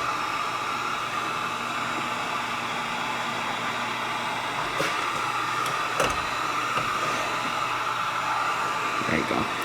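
Heat gun warming a front-end part on a Polaris RZR Pro XP off-road vehicle, giving a steady, close blowing hiss throughout, with a few brief clunks and light handling noises near the end.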